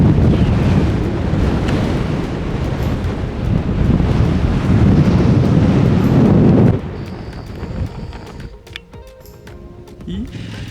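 Strong gusting wind buffeting the microphone at a mountain summit in New Zealand, a loud continuous roar that drops sharply partway through to a quieter, patchier rush.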